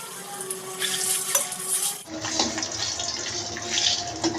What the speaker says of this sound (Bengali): ডিমগুলো তেলের মধ্যে দিয়ে কিছুক্ষণ নেড়ে নিব।